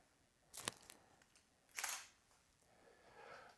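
A camera shutter fires while taking a picture, heard as two quick, crisp clicks about a second apart, fairly faint against a quiet background.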